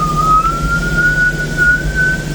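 A kettle whistles with a steady, thin high tone that slowly rises in pitch, sounding close by over a low background hum.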